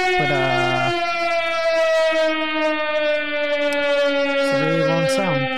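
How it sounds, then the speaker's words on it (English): Long, loud sustained siren-like tone with gliding pitch at start and end, played as a bomb sound effect from a Launchpad MIDI soundboard, running continuously and alone. "There's my annoying bomb sound."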